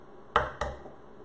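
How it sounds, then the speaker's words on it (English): Two eggs cracked on a flat kitchen surface while making hot and sour soup, two sharp close taps about a quarter second apart, alone in a quiet room. "So I'm just gonna crack them here."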